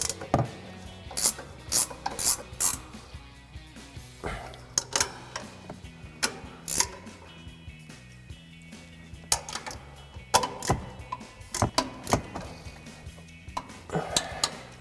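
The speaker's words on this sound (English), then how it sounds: "So we've got our 15mm ratcheting wrench," A 15mm ratcheting wrench tightens the upper strut mounting nuts on a Ford F-150 during a suspension lift install, with rapid metallic ratchet clicks in short irregular bursts and occasional clanks of tool on metal, close by.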